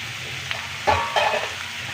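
Onions sautéing with a little salt crackle and sizzle in a pan, with a couple of louder stirring scrapes and knocks midway over the continuous frying hiss.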